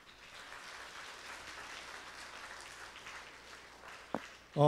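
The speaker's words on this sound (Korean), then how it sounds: "성도님들의 많은 사랑과 격려 그리고 박수 부탁드립니다" A church congregation claps at a Sunday afternoon praise service, a soft, fairly distant wash of applause that stays low and even before a sudden loud burst of sound cuts in at the very end.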